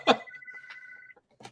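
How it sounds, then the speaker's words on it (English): A mobile phone rings with one steady electronic tone lasting under a second, close by, with brief voices just before and after it. "sorry, I apologize for my phone ringing"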